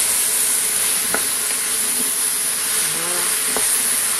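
Leeks browning in a pan give off a steady sizzle with a constant bright hiss, plus a few faint stirring clicks and scrapes, near and fairly loud with no talking.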